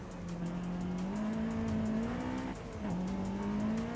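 A race car engine in Forza Horizon 5 revs hard and steadily, its pitch climbing through the gears with a brief dip as it shifts, loud and continuous with faint tire noise and no speech.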